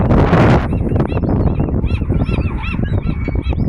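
Juvenile seagulls calling in a prison yard, a loud burst of wind rush at first, then a run of repeated harsh, honking squawks close by over breezy outdoor noise.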